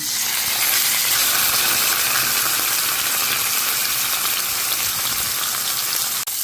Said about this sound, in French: Mon huile est assez chaude. Je viens griller maintenant ma viande.